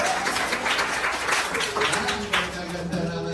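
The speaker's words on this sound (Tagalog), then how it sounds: "O ngayon, maraming palakpak." A crowd claps steadily at an 18th birthday celebration, dense overlapping claps that hold at a fairly even level throughout, with voices and chatter mixed in beneath.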